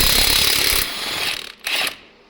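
Wrench breaking loose very tight lug nuts on a Colorado pickup truck wheel: loud, dense metallic ratcheting that cuts off abruptly, then a short second burst before fading out.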